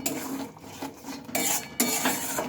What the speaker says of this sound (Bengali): মশলাটা এখন আমি ভালোভাবে কষিয়ে নেব